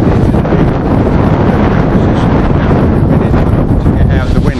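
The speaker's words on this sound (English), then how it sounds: "It's very windy today." Strong wind at Marholm near Peterborough batters the microphone in a loud, continuous rumbling roar with gusty surges, completely filling the recording, beside a railway line on a blustery day.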